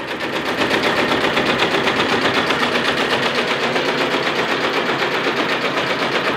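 An embroidery machine stitches a logo onto clothing, producing a loud, steady, rapid mechanical rattle of needle strikes that runs continuously throughout with no talk over it.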